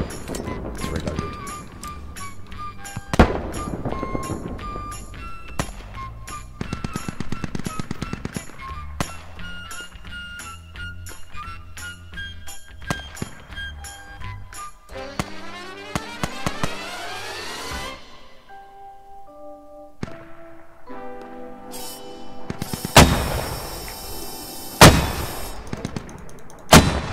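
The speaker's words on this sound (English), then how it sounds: "I'm about to mortar that roof now" Mortar fire and explosions in the video game Squad: repeated sharp blasts and booming impacts at irregular intervals, some close and loud, others distant, over a busy rattling background with occasional voices.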